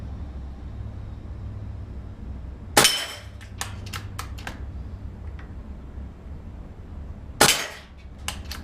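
Two sharp shots from a Benjamin Marauder air rifle, each a crisp loud crack followed by quick metallic clanks of the action or target, over steady outdoor background noise.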